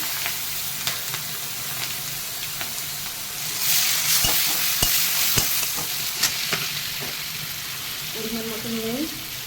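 Cardamom pods and chillies hit hot oil for a crab curry, setting off a bright, spitting sizzle that surges in the middle with sharp crackles, and a brief voice shows up near the end.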